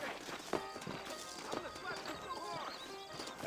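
In Red Dead Redemption, horse hooves clip-clop in an irregular, fairly quiet rhythm, with a brief whinny and some faint background sound under the steps.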